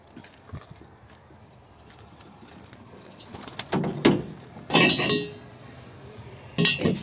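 Young birds released from a coop into an aviary, with scattered wing flutters and soft cooing that grow into louder bursts of flapping near the end, plus light shuffling throughout.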